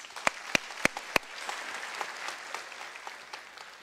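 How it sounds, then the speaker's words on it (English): A graduation-ceremony audience at the University of South Africa claps: a few sharp, distinct claps ring out first, then a soft, steady patter of many hands continues, fairly quiet and distant. "A round of applause,"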